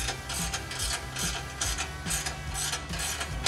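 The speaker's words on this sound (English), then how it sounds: "we're gonna tighten up this pipe clamp" Ratchet wrench tightening an exhaust pipe clamp on a Jeep Gladiator JT with an MBRP 3-inch XP Series high-clearance filter-back exhaust: close, steady back-and-forth clicking strokes at a regular rhythm, repeated about six times without talk.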